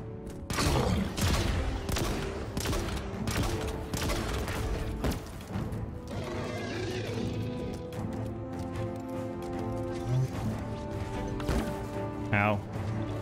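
Rapid, loud weapon fire from Halo Infinite's campaign sounds in a string of punchy shots, then gives way to explosions, clatter and background music as a person speaks.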